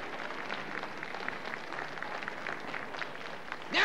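Steady applause from a festival audience welcoming performers at a German carnival-style club anniversary, filling the clip evenly with a brief louder swell right at the end.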